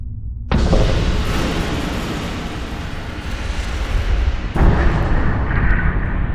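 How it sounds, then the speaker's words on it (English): A gun fires a polycarbonate rod into a flat stainless steel plate, producing a sudden loud blast that roars on, followed by a second heavy boom a few seconds later. "we shot a rod of polycarbonate against that flat piece of stainless steel, and something amazing happened"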